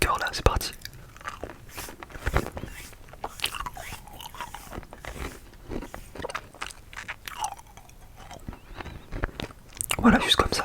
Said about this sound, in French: je vais les mettre dans ma bouche et je vais pas les croquer